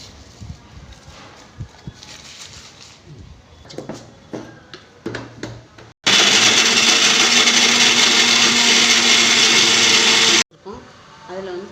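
A kitchen mixer grinder blends coconut and poppy seeds into a paste, a loud steady whirring roar that starts abruptly and runs for about four seconds before cutting off, with clatter and talk around it.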